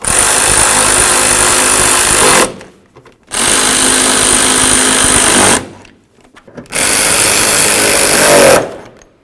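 A power tool snugs bolts on a headlight mounting of a 2007-13 Toyota Tundra, three loud sustained whirring bursts of about two seconds each, separated by short silent pauses.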